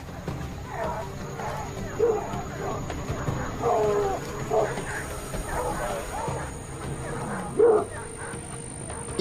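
Hunting dogs bark in a few scattered bursts during a jaguar search in forest, heard at a middle distance while a voice speaks over them.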